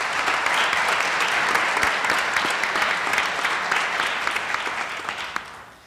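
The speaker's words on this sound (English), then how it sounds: "Let's all give Scott a big round of applause" Sustained applause from a graduation ceremony audience in a university hall, steady and dense at full strength before tapering slightly at the end, with no talking over it.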